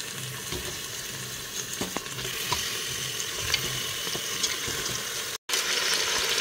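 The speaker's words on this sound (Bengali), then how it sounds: "ভাজা হয়ে যাবার পরে এর মধ্যে আমি মাংসগুলোকে দিয়ে দেব।" Pieces of rooster meat fry in a pan with onion and garlic, making a steady, close sizzle. Occasional clicks and scrapes of stirring break through it, with one very brief dropout near the end and no talking.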